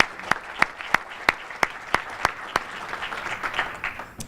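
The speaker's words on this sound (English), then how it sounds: "give them a round of applause, because it's been awesome" A crowd at a mentor rally reception claps, opening with a few strong, evenly spaced claps up close before the applause thickens into a fuller, steady round.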